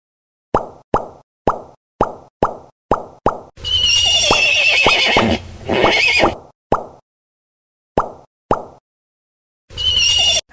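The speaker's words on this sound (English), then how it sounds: "Horse." A cartoon horse neighs and whinnies loudly in a kids' farm animal puzzle game, surrounded by a steady series of crisp popping bubble and tap effects before and after.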